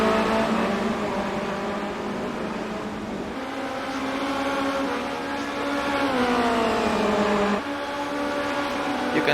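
Formula Renault 2.0 race cars at Monza in a racing video game drone past with a steady, high engine whine that shifts pitch as one car overtakes a lapped car, loud and continuous throughout.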